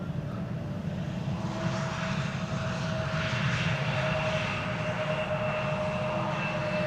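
A KLM Boeing 777-200 airliner arriving at Amsterdam Schiphol roars steadily with jet engine noise, loud and sustained throughout, with no talk.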